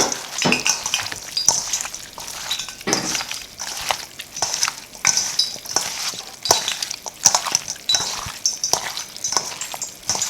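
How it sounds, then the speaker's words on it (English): Curry chicken with thyme and garlic is mixed by hand in a pot, making repeated wet squelching and rustling sounds in an uneven rhythm, with faint clinks. The sound is close up and there is no talking. "let's give it a stir with my hands"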